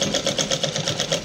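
A sewing machine stitching a petticoat runs at a fast, even pulsing rhythm, its needle clatter repeating steadily and close with no break.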